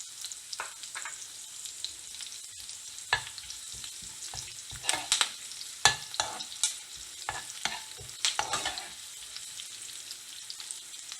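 Cumin, mustard seeds, onions and curry leaves fry in oil for a brinjal masala curry, with a soft sizzle broken by irregular bursts of crackling and stirring clatter, loud and close.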